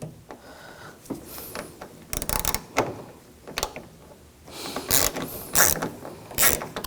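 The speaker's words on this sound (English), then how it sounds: "Now I'm going to use a T25 socket." A T25 socket ratchet loosens a screw behind the bezel of a 2000-2006 BMW X5 front door, giving bursts of close, crisp ratcheting clicks with short pauses between them.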